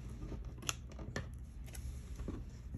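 Scissors snip through yarn while trimming a handmade pom pom, with a few crisp cuts close by against a quiet room.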